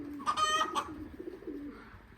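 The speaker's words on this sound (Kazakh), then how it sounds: "Нағыз шырайлы кептерлер." Birds call at a pigeon loft in Shymkent on a sunny day: a short burst of bright, harmonic cries near the start, then softer low coos and rustling, fairly close, with no speech.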